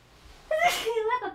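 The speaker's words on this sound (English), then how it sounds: "I'm gonna sneeze again" A single sudden sneeze bursts out after a quiet lead-in, loud and close, trailing off into a voiced tail.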